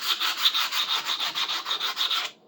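Rhythmic back-and-forth sanding on the solid wooden handle of a pruning saw, a steady series of close, raspy strokes that stop abruptly near the end.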